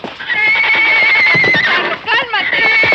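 An old horse neighs loudly and close, a long shaky whinny with a second rising cry near the end, mixed with hoof clatter and voices in a rural film scene.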